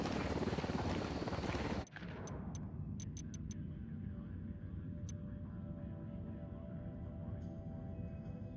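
A helicopter in the video game Ghost Recon Wildlands: a loud roaring rush that cuts off abruptly, giving way to a steady close engine hum with a few sharp clicks, with no talking.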